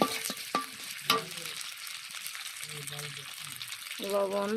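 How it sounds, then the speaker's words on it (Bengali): Spice paste for a tilapia curry frying in oil in a pan, a steady sizzle with occasional scraping stir strokes, and some faint background voices and tones near the end. "পেস্টে একটু ভাজা ভাজা হয়ে যাওয়ার পরে একটু লবণ দিয়ে দিলাম"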